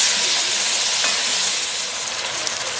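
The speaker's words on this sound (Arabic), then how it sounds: "منضيف البندورة، حبة بندورة كبيرة مقطعة ناعم" A loud, dense sizzle of finely chopped tomato hitting onions frying in hot oil, a steady close hiss that eases slightly near the end, with no voices.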